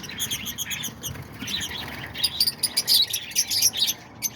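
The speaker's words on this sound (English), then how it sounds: "those are the lovebirds. And yeah, these are the lovebird cage" Caged lovebirds and cockatiels chirping, a busy run of sharp, high tweets and calls, moderately close, growing denser and more rhythmic in the second half with no talking.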